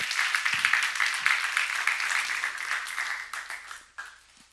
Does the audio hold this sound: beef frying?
no